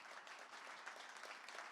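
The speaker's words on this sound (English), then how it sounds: "I would like a large applause for Andrea" A conference audience gives a brief burst of dense applause after a presentation, the clapping faint and distant with no voices over it.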